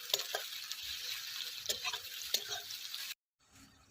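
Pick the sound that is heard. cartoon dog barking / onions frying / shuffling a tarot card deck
onions frying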